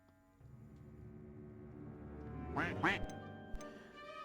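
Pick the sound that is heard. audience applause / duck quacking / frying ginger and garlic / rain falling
duck quacking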